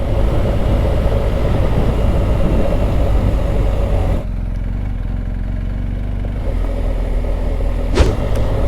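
BMW GS motorcycle accelerating on the road, a loud, continuous engine drone mixed with rushing wind; the pitch and texture shift partway through.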